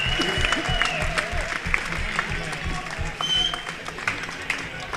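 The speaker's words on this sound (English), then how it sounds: "please could you give a round of applause for our fantastic boxers here?" Crowd applause for the boxers at a boxing event, with sustained clapping and crowd noise over thudding low beats, and voices talking through it.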